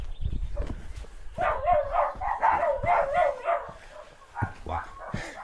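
Several village dogs barking and yipping together at mid distance, a lively overlapping run of barks with brief pauses, some faint voices nearby.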